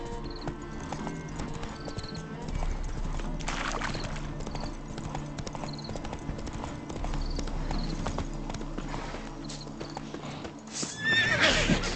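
Roach, the horse in The Witcher 3, clip-clops with steady hoofbeats and snorts and whinnies several times over in-game ambience, with a brief voice near the end.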